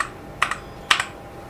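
Computer keyboard keys struck during a Roblox Blox Fruits game, two quick double clicks about half a second apart, crisp and close against a quiet background with no talking.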